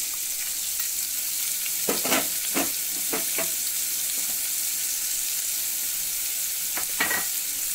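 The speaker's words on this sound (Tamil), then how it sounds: "இப್போ வந்து வெட்டி வச்ச வெங்காயத்தை இதில் சேர்த்துக்கலாம்." Chopped onions hit hot oil after tempering for a chickpea gravy, a loud continuous hiss and sizzle running throughout, broken by several scraping stirs of a spoon against the pan.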